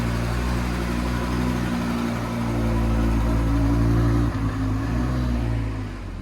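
A 2020 Audi RS3 engine fires up from cold into a loud, steady, low rumble that swells briefly mid-way before settling, heard close with no talking.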